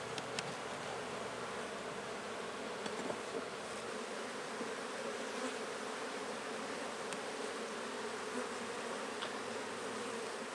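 Honey bees buzz continuously around an open-air hive built on comb transferred from a cutout, a steady dense drone that holds level and close throughout, with no talk.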